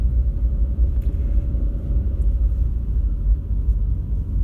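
A 2024 Subaru Crosstrek Wilderness accelerating and turning on a snowy road, heard as a loud, steady low rumble from inside the cabin, with no voices.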